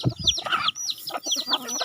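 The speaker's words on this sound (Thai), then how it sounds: "ไก่ตัวผู้ก็มีเยอะครับผม" Several decoy roosters kept for cockfighting cluck and call close by, a busy overlapping run of short squawks and clucks with faint low thumps at the start.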